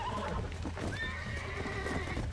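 In the video game Red Dead Redemption, a horse gives a long, wavering neigh over a continuous background rumble, with faint hoof clatter underneath.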